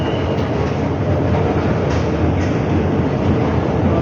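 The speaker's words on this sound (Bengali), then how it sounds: "ট্রেনটা মিস হবে, ট্রেন চলে গেছে সম্ভবত।" A train rumbles past at a station platform, a steady loud broadband roar with faint rail clatter running throughout without pause.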